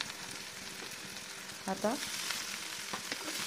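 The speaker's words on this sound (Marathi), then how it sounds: "असं होत नाही की कुठं कांदा कच्चा राहिला किंवा मिरच्या तळल्या गेल्या नाही. त्याच्यामुळे सतत ढवळणं गरजेचं आहे." Onion and chillies fry and sizzle in a pan while being stirred for poha, a steady soft crackle with brief scraping stirs, and a voice briefly speaks over it.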